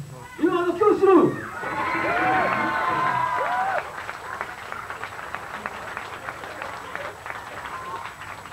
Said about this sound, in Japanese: それでは盛大な拍手でお迎えしましょう。